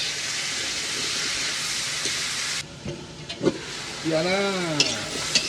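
Chayote and carrot stir-fried in a pan, a loud steady sizzle that drops abruptly midway, followed by scraping stirs and a brief voice.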